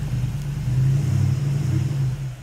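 A snow blower engine runs in thick snow, giving a steady, low, rumbling drone that holds at a constant level, close and alone.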